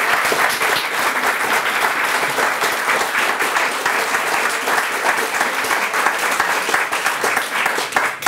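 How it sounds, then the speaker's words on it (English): An audience gives a round of applause after a talk on surveillance, dense continuous clapping at an even level throughout, filling the hall. "I think we'll give you a round of applause first."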